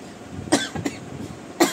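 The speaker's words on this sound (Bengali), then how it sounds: "ওই দেখো কাশি শুরু হয়ে গেছে।" Two sharp, close coughs ring out roughly a second apart, with a softer throat sound between them, in an otherwise quiet room without talk.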